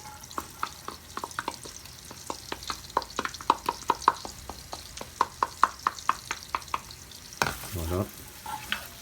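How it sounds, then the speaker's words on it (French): Onions fry in a pan for a bolognese sauce, a soft sizzle under regular scraping stirs, with a louder rustle of movement near the end. "on met nos oignons."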